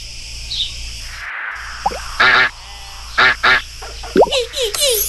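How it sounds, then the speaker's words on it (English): Cartoon duck quacks sound in a children's animal-recognition game: a few loud, nasal honking calls in short bursts, alone over a light steady background tone. "Duck."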